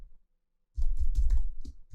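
Computer keyboard keys clatter in a quick, close run of taps after a short silence, several distinct clicks bunched together over about a second.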